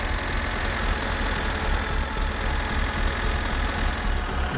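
Tractor engine in the video game My Summer Car, a steady low rumbling idle with a throbbing diesel drone, close and continuous with no voices.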